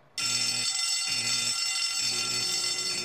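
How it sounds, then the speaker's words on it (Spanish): Fire alarm bell in an animated Simpsons scene, starting suddenly and ringing loud and continuous with a rapid metallic clatter, alone without voices. "¿es la alarma de incendio?"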